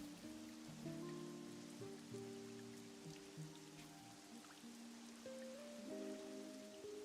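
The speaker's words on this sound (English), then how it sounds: "It's always so rainy here." Steady rain pattering across surfaces in the game Pokémon Unite, a soft continuous hiss with scattered drops beneath layered sustained musical tones, faint and even throughout.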